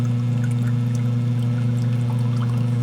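Water pours from drain tile pipes surrounding a house into a basement sump pit, a steady close splashing flow with a constant low hum beneath it, continuous and without speech.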